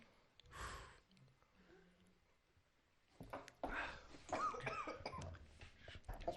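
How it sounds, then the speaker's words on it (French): A few sharp coughs ring out in a quiet room after someone drinks a shot, then a group bursts into loud overlapping chatter and laughter. "Un shot qui tousse, c'est un shot qui rentre."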